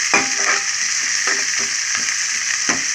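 Two onions and two green chillies fry in a pan, loud and close, a dense continuous sizzle with repeated scraping strokes of a stirring spoon.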